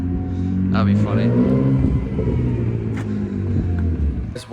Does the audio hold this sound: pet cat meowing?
no